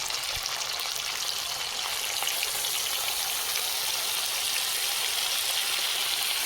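Hilsa fish frying in oil in a pan, a steady, even sizzle with fine crackling spatter that holds at moderate level throughout without pauses.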